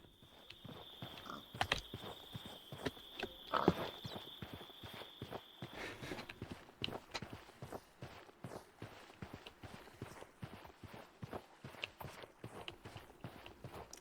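A horse's hooves clip-clop in a video game as it walks, producing a steady run of soft, fairly close footfalls, with a tone and a few louder clicks early on.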